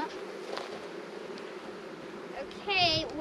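Honey bees hum in a soft, steady drone as a hive is opened for feeding with sugar syrup, with a louder, nearer buzz swelling at the end; a faint voice is heard underneath.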